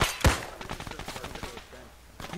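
In a video game, a window is shot out with a loud opening bang followed by a rapid burst of gunfire and rattling impacts, while voices talk underneath.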